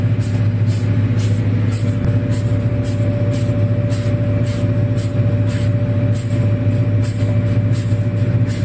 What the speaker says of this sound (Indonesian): Kemudian kita posisikan engine full throttle ya, engine full throttle.